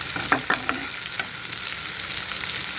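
Cashews frying in hot oil for bagara rice, a constant close sizzle with a few quick utensil scrapes and taps early on, then steady frying alone.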